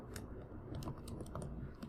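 Computer keyboard typing as code is entered, a short run of soft irregular key clicks, close and faint over low background noise.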